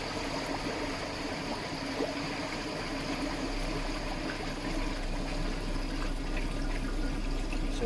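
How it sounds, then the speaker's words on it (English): Water draining out through the waste valve of an Evolution Aqua Eazypod pond filter while it keeps churning: a steady, continuous rushing and trickling that is moderately loud and close, with no talk. "So I will then open the waste valve. I tend to keep it churning while it's emptying."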